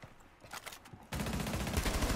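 Video game gunfire with heavy recoil: a few scattered shots and footsteps, then a sudden, loud, continuous burst of rapid automatic fire that fills the rest of the moment.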